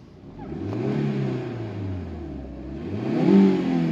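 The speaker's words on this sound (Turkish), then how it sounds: "Gaz ver Burak." A car engine, running on LPG in a repair shop, revs up and down twice, climbing in pitch and falling back, close and moderately loud with no speech.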